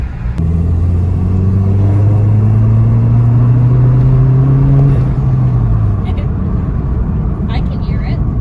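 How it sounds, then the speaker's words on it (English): A Volkswagen MK7 GTI with an Integrated Engineering intake accelerates, heard from inside the car as a loud, steady engine drone that rises in pitch through a gear and then drops as it shifts, with a constant road rumble underneath. "You definitely get quite a bit more sound inside the car."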